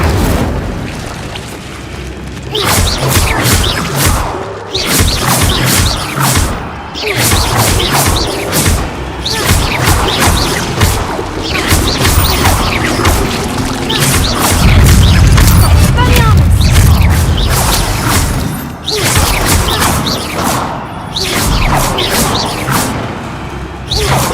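Incendio fire spell cast repeatedly in Hogwarts Legacy, with a long run of loud, close bursts, crashes and fiery whooshes in quick succession and a heavier rumbling surge midway, with brief voices at times.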